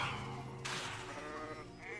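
Sheep in Hogwarts Legacy bleats twice against a steady game background, the calls fairly close and clear.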